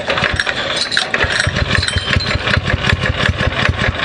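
A Predator 212 small engine on a springer bike, kick-started with no throttle, runs loudly and close up with a steady chugging, rapid-firing rhythm that lasts the whole stretch.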